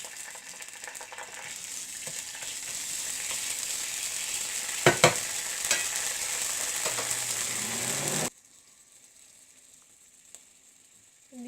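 Ginger garlic paste spits and sizzles in hot oil with cumin seeds, a dense, steady crackle with a few sharp pops, then cutting off abruptly near the end to near silence.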